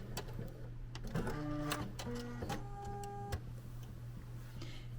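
A sewing machine stitches a seam of a Liberty London palazzo suit down to a tailor tack, giving a quick whirring run of needle strokes with a few short bursts and clicks before it stops, close and fairly quiet.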